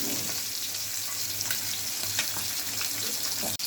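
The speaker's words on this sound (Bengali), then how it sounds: "প্রথমেই পাবদা মাছগুলো ভেজে নিচ্ছি।" Pabda fish frying in hot oil, a steady close sizzle holding throughout with a faint bubbling undertone and no voices.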